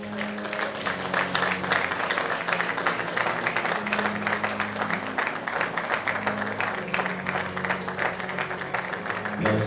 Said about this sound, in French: c'est un applaudissement bien mérité